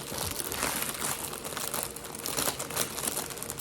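Paper and tape handled while wrapping a holiday gift basket: continuous close crinkling and crackling of paper, dense and busy, with no talk.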